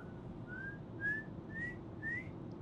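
A person whistles to imitate the legendary Silbón call, four rising whistled notes in a row, each short and gliding upward, fairly quiet against a soft room background.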